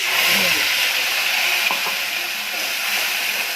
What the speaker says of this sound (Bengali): তেল গরম হয়ে গেছে, কালো জিরে ফোড়ন দিয়ে দিচ্ছি।